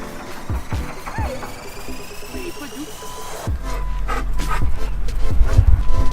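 A dog whimpers and gives a few small yips nearby while people talk, and a low vehicle rumble rises in the second half.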